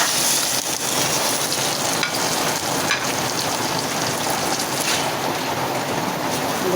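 Chicken pieces hit a hot pot for tinola and sizzle steadily, a dense crackling hiss with faint stirring clinks, close and continuous without talk while heavy rain falls outside.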